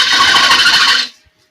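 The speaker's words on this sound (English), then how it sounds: "So I'm using a 3/8 bowl gouge." A 3/8 bowl gouge cuts wood on a spinning lathe, giving a loud, close, rough buzzing rasp that holds for about a second and then cuts off into silence.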